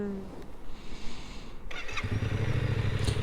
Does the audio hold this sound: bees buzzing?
no